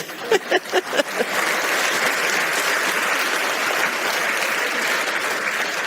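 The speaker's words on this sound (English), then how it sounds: "Round of applause." An audience applauds at a talk on the financial reset, starting with a few sharp separate claps that quickly swell into sustained, fairly loud clapping from a crowd.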